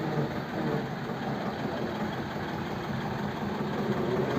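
A tractor engine idles steadily, a constant low rumble with even texture and no talking over it.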